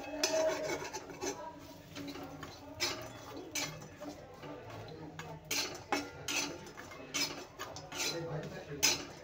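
Dried Bombay duck (bombil) pieces dry-roasting in a metal kadhai: a spatula scrapes and clinks against the pan in irregular bursts, moderately close and steady, with no talking.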